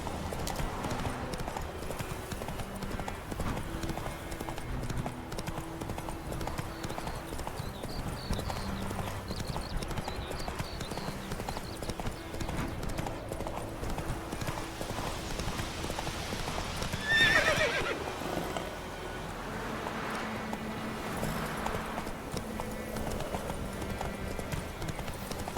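Roach the horse in The Witcher 3 gallops with steady rhythmic hoofbeats throughout, one loud whinny rising near the middle over faint game ambience.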